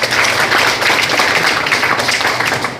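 An audience at a forum on fisheries safety and Fukushima treated-water release claps loudly and continuously, a close, dense wash of hands throughout.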